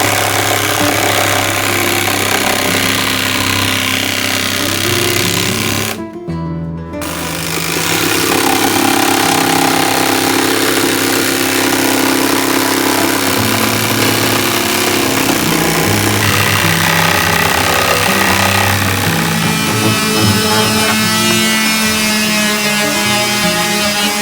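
A power sander smooths a freshly cut edge, giving a steady, loud motorized whir that runs almost the whole time, with a brief break near the start before it resumes.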